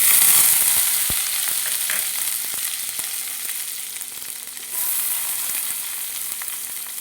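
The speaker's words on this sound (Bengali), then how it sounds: "এবার আমি ওই তেলেতেই ভেজে নেব কাজু কিশমিশ।" Cashews and raisins frying in hot oil left over from frying lentil dumplings for a papaya ghonto, giving a loud, steady, close sizzle with scattered small pops and crackles, and no talking.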